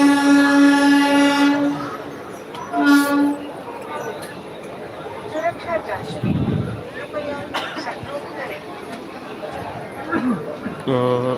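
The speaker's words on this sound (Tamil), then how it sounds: "அரக்கோணம் ஃபாஸ்ட் வந்து நிற்கிது." An Arakkonam fast train rolls into a station with a deep rumble and brief horn-like tones, while voices chatter nearby throughout.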